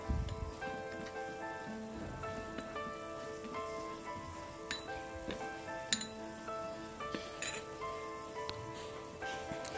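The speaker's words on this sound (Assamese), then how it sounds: "আৰু 1 চামুচ গোলাপ জল এই গুটেখিনি সামগ্ৰী ভালদৰে মিক্স কৰি লম" A spoon mixes a milk powder facial scrub with rose water in a small dish, making light, scattered metallic clinks and ticks at an uneven pace, soft and close against a faint ringing background.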